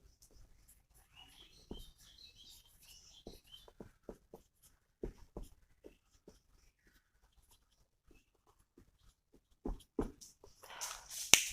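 A teacher writes out lesson points for a primary-school class on rice farming, the pen or chalk making faint, scattered scratches and taps with quiet gaps, ending in a louder rustle.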